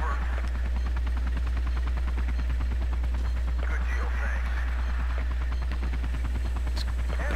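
Helicopter arriving in a military shooter video game, its rotor thumping in a fast, steady rhythm with a deep engine drone, loud and close, with scattered gunfire and voices talking over it.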